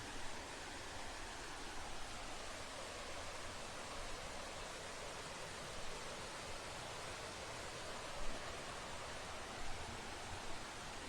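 Steady, broadband rushing of a roughly 70-foot mountain waterfall in Panama, constant and enveloping throughout with no voices.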